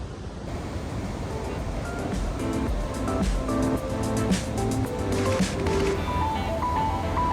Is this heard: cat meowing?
no